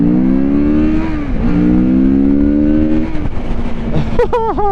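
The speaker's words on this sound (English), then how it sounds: "I like the way the engine pulls. Revs right up to redline." A Kawasaki Z650RS motorcycle engine revving hard to redline and climbing in pitch, then dropping back and revving again, loud and close, ending with a few sharp blips of the throttle.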